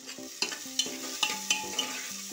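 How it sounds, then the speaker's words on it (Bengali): Chopped onions added to hot mustard oil with dried red chillies, bay leaves and cumin, frying with a steady close sizzle while a spatula stirs and scrapes the pan in several sharp strokes. "এবারে দিয়ে দেবো পেঁয়াজ কুচি।"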